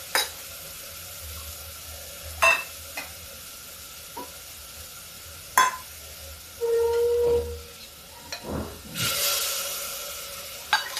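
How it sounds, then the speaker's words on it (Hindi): Spice paste mixed in water hits fried garlic and onion in a hot pan and sizzles. A steady hiss carries under scattered stirring clicks and scrapes, with a louder surge of sizzling near the end. "लहसुन प्याज मेरा भून गया है। अब इसमें डाल देते हैं ये अपने मसाले जो मैंने पहले से घोल के रखे हुए हैं।"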